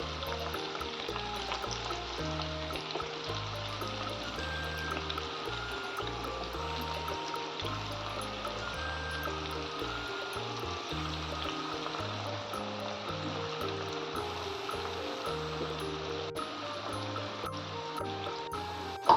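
Red pumpkin bonda fritters frying in hot oil, a steady bubbling sizzle throughout, heard under continuous background music.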